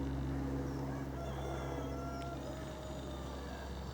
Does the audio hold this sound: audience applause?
no